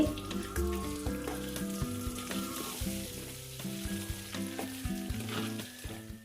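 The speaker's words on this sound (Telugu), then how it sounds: "మనం ఉడకబెట్టిన గుడ్లు పక్కన పెట్టుకున్నాం కదా ఇప్పుడు ఆయిల్లో వేయించాలి" Boiled eggs fry in hot oil with chili powder, sizzling loudly and steadily up close while being stirred, with scattered scraping sounds.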